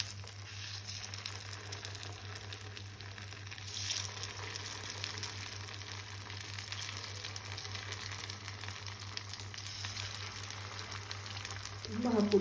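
Dosa batter for appe sizzles in the cups of an appe pan, a soft continuous frying crackle with a low steady hum beneath, faint and close, swelling slightly as more batter is added.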